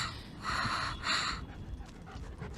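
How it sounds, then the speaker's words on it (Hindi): A dog pants rapidly and steadily close by, with quick rhythmic breaths and snorty exhales carrying on throughout. "लगता है ये उस बूढ़ी औरत का कुत्ता है"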